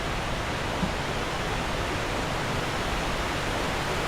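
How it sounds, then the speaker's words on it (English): A loud waterfall in Darksoulvania 2 roars as a dense, constant broadband rush, close and unbroken, with no voices. "It's a deafening waterfall there."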